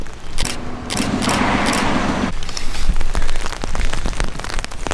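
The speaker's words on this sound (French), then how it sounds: "mais qu'est-ce qu'il pleut!" Heavy rain pouring down outdoors in German-speaking Switzerland, a loud steady broadband wash with some louder bursts of drumming and splashing, no voices.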